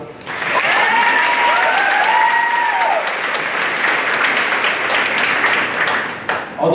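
A graduation audience at Staten Island Technical High School breaks into loud, sustained applause lasting several seconds, with a few whoops and cheers rising over the dense clapping early on before it tapers briefly at the end.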